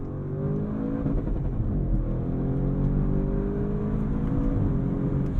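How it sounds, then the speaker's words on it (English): A 2022 Audi RS6 Avant engine revs hard toward redline in a steady, loud, continuous rising roar, heard from inside the cabin with no talking. "Lets me go all the way out to red line."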